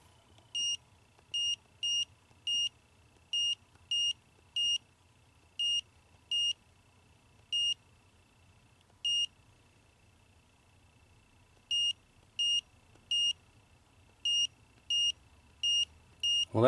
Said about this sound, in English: Well, that beep is annoying.